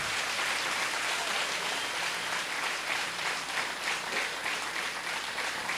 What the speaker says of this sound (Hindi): तो जो भी सारे कलाकार हैं सबके लिए ज़ोरदार तालियां बजाएंगे